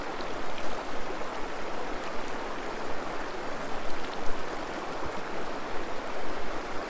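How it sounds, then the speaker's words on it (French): Cold spring water splashed and rinsed over a freshly shaved face outdoors in the mountains, a steady close rushing and trickling of water with faint scattered drips, no voices. "je vais faire un bon rinçage à l'eau de source"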